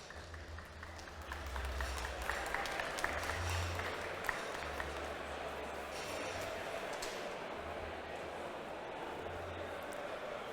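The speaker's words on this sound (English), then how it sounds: "First, please welcome on stage Seb, Cachia with a huge round of applause." Audience applause at a tech product talk: steady broadband clapping from a large crowd fills the hall throughout, with a low rumble underneath and no clear voices.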